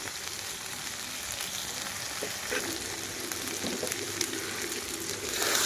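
Village-style chicken curry sautés in a pan with a steady, close sizzle and hiss that holds throughout and swells slightly near the end, with no talking.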